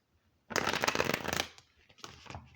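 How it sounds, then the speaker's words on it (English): A deck of tarot cards is riffled in one dense, fast burst of flapping card edges lasting about a second, followed by a few softer shuffling pulls, close and fairly loud with no voice. "Get a good shuffle on here."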